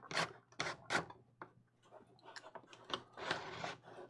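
The carriage of a Snappy 3D-printed 3D printer slides back and forth with a zipper-like rasping, a series of quiet, close, scratchy bursts separated by short pauses.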